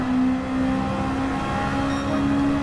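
A loud engine drones steadily with a constant high whine, a continuous roar of a car running at speed.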